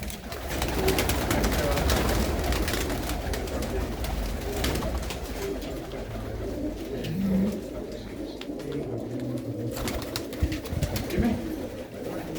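Many pigeons cooing continuously in a dense, low murmur, with a few occasional louder coos standing out nearby.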